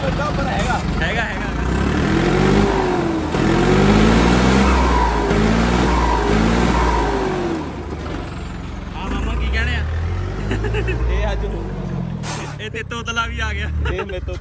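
A John Deere tractor engine revs loudly and close, rising and falling in pitch with rumbling low tones, while people talk over it throughout.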